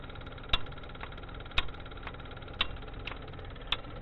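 A failing starter motor clicks without starting the engine, giving about seven sharp, evenly spaced tuck sounds over a few seconds above a faint, steady background hum.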